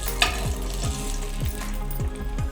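Vegetables for a mixed curry browning in a hot pan, with dense continuous sizzling broken by regular scraping stirs about every half second and a sharp clink near the start.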